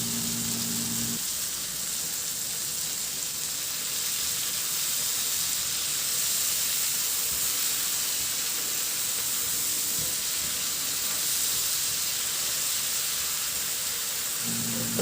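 Tomatoes sautéing in a pan for ginisang monggo, a steady close sizzle and hiss that runs unbroken for the whole stretch with no talk over it.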